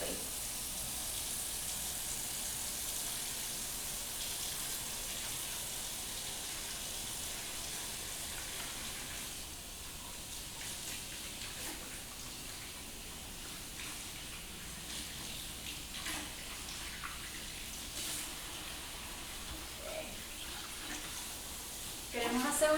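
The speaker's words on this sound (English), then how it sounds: "We want to make sure to wash our hands for at least 20 seconds." Hands being washed under a running tap, a steady hiss of flowing water throughout with faint splashing shifts, while a person talks over it.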